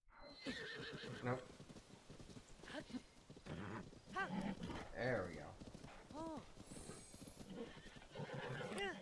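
A horse in Zelda: Tears of the Kingdom whinnies and neighs several times, with hooves clip-clopping between the calls, while someone talks over it.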